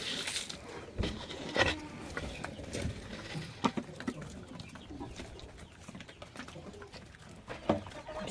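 Backyard poultry, chickens, a rooster and pigeons, cluck and chatter close by while being given food, with scattered pecking and scratching sounds and brief calls over a steady rustle.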